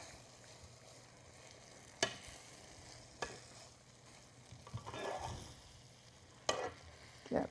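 Cherry tomato pasta is tossed in a hot pan, a soft sizzle under a few sharp clanks and scrapes of the pan and utensil, with no talking.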